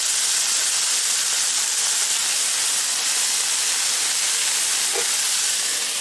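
Steady, loud broadband hiss of steam rising under a cheese melter dome set over eggs and cheese slices on a flat-top griddle, continuous with no pauses and no voices.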